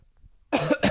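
Two quick, harsh coughs close to the microphone after a moment of near silence.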